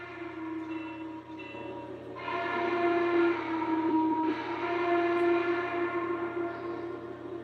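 A chorded model train whistle from a Vision Line Class A locomotive blows in long sustained blasts over a low steady hum, growing louder midway and holding for several seconds.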